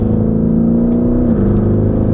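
A Lamborghini Urus SUV engine hums loud and close with a steady droning tone that drops slightly in pitch midway, a continuous mechanical whir with no voices over it.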